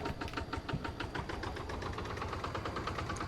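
Micro tractor engine in Farming Simulator 22 idling with a steady knocking chug, a dense continuous low rumble with rapid rhythmic pulses throughout, close and even in loudness, no voices.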